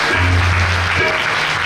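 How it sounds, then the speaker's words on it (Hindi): A crowd of devotees at a spiritual gathering claps to welcome a religious discourse, a dense, continuous wash of applause that stays loud through the whole short stretch. "सब ने 10 बार ताली बजाकर आपके प्रवचन का स्वागत किया"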